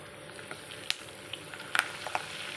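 Curry leaves dropped into hot oil in a home kitchen, frying for a fish kebab 65, give a faint, steady sizzle with a few sharp crackles and pops near the middle and end, heard alone.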